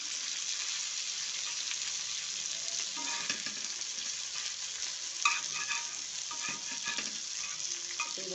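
Chicken sizzles slowly in a frying pan for deep-fried chicken, a steady broadband hiss of hot oil with occasional stirring scrapes, close and alone.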